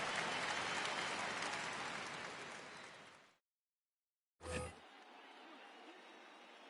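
Stadium crowd roaring in a PS4 baseball video game as a ninth-inning at-bat reaches a full-count tension moment, a loud sustained cheer that fades to silence, then returns with a brief thump and a lower, steadier crowd murmur.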